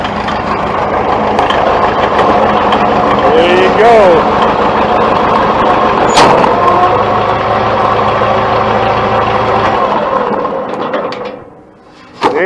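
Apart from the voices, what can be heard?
International 450 tractor engine running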